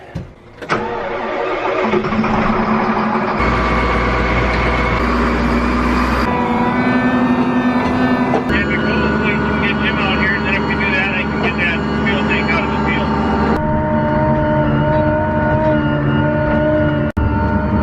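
A diesel farm truck starts and idles in deep snow, a loud steady engine drone whose pitch shifts in several stages, with a person talking over it.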